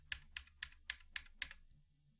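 Six evenly spaced keystrokes on a cheap mechanical gaming keyboard, crisp clicky taps at a steady rhythm, close and fairly quiet, with nothing else audible.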